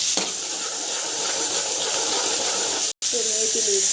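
Mustard seeds, cumin, biryani spices and garlic paste sizzle in hot oil for a mushroom gravy. The hiss is continuous and close, broken by one brief cut, and a voice talks over it toward the end.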